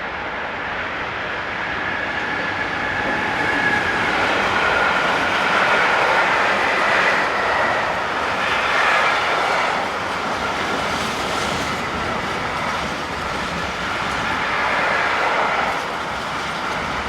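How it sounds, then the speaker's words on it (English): A freight train rolls past on a busy European main line, a steady loud broadband rumble with faint clickety-clack from the wagons holding throughout, close to the listener and with no voices. "This is a busy stretch of line with anything up to 4 freight trains each way per hour."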